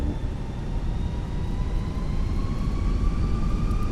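Airliner jet engines spooling up for takeoff in Microsoft Flight Simulator, a steady loud roar with rising whining tones underneath, continuous with no talk.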